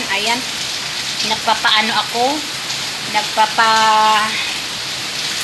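Steady rain falls outside a house, a continuous soft hiss filling the background while someone talks over it.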